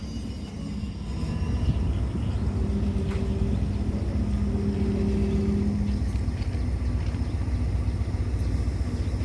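A heavy crude oil freight train slowing into a station in Thailand rumbles low and steady nearby, with occasional metallic squeals and creaks from the wheels.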